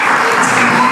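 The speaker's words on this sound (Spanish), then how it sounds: "Denle un aplauso." An audience at a church event applauds in a loud, dense burst of clapping that fills the whole moment.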